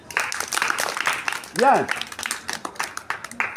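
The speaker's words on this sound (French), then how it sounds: "On l'applaudit." A school class applauds a pupil, with a brief burst of children clapping mixed with close talk and a rising voice that keep interrupting the clapping.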